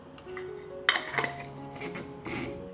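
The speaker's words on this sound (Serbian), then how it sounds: "i tegle zatvaram sa čistim i novim poklopcima." Glass canning jars being shut with clean new lids in a home kitchen, giving a few sharp clinks and clatters of glass and metal up close, one louder knock then softer handling, with a faint hum beneath.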